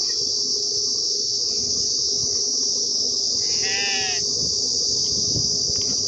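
A single sheep bleats once in the middle as a flock is herded home, a short wavering call heard over a constant loud drone of crickets and insects.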